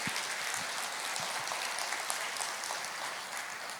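A church congregation breaks into applause during a sermon, a dense, continuous patter of many hands clapping at moderate distance, holding steady without speech.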